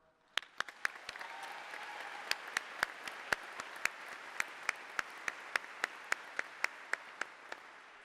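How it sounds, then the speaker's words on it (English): Applause at a nursing school commencement, with sharp, regular individual claps standing out near the front over a softer, steady wash of crowd clapping that builds quickly and then holds. "Please join me in a round of applause for the many individuals that made our accomplishments possible"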